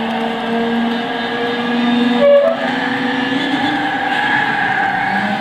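Engine of a Mazda RX-7 Savanna Infini 1.3 turbo in the racing game Gran Turismo 6, a loud sustained buzzing drone with a brief pitch shift midway, as if shifting gear, no speech.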